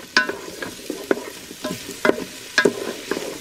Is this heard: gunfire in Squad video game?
no